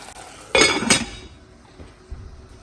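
A metal lid clanks onto a cooking pot of okra, two quick bright clinks close together with a short ringing tail, then a quiet kitchen.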